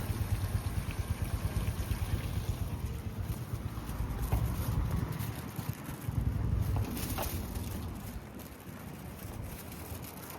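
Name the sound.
small waterfall in a river, Kyoto mountains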